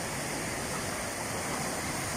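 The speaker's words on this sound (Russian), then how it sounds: "33 водопада." Rushing water at a waterfall in Sochi during summer flooding: a steady, dense roar of broadband noise filling the whole clip, with no talk.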